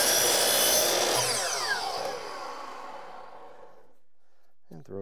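A saw cuts through wood baseboard trim in an old house bedroom remodel, a loud buzzing cut that fades as the blade spins down into quiet, followed by a brief soft breath.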